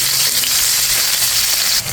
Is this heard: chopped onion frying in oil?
yes